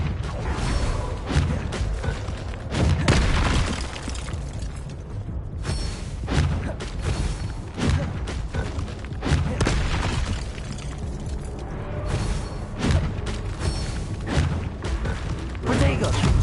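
Fire-blast spell explosions in Hogwarts Legacy gameplay, a busy spell battle with repeated booming bursts and thuds layered over constant action noise, with a voice shouting spell names throughout.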